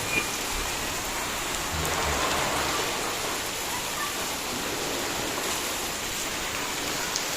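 Steady rain pours down with a dense, even hiss, continuous and close throughout, with no other sounds standing out.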